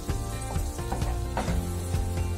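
Carrots sizzling and frying in butter in a pan, a steady close crackle with light stirring scrapes.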